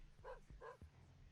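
Two quick barks from a dog in The Binding of Isaac game, close together and fairly faint, with a low background hum.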